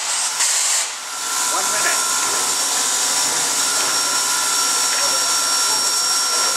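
Soo Line steam locomotive 2719, on its final run, vents steam in a loud, steady, close roaring hiss that fills the whole stretch without a break.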